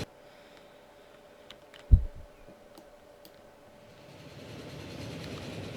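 A train runs in the Train Fever video game, giving a faint steady hum with a few sparse clicks, then one sharp knock. A soft rolling rumble slowly builds toward the end.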